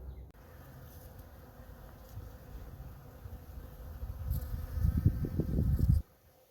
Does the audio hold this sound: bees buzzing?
yes